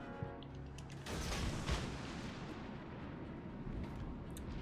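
Naval guns boom in the World of Warships video game, a heavy blast followed by a long rumbling roar and low continuous battle noise.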